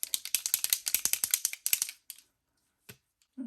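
Dior Backstage Air Flash spray foundation can shaken hard, a fast run of close, loud rattling clicks from the mixing ball for about two seconds, then a few isolated knocks and silence.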